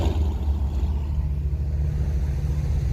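Several cars idling and rolling in at a car meet full of Mercedes E63s and Porsches, a steady deep engine rumble holding at a constant level throughout, with no voices.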